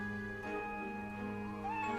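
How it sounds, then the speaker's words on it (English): A cat meows in the Professor Layton vs Ace Attorney video game, a clear, close cry with bright pitch glides over a steady musical background, with no talk. "Oh, it is the cat."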